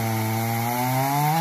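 A chainsaw cuts into a pine tree with a loud, steady whine, its pitch climbing as the blade bites through the wood over a short stretch, with no talk.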